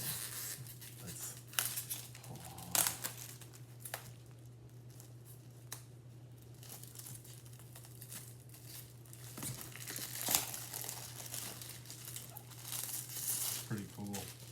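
Original Upper Deck plastic wrapping on an NHL 93/94 card box being torn and crinkled in scattered bursts over a steady low hum, with a person talking throughout.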